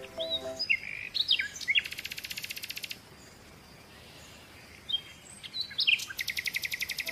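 Parrot calls come as repeated sharp chirps and squawks with rapid ratcheting bursts, in two groups separated by a brief quiet stretch, fairly close.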